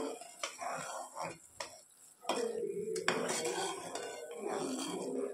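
Spoon clinking and scraping in a pan as cardamom and cinnamon powder are stirred into sugar syrup for besan laddoos, close and intermittent, with a voice talking over it.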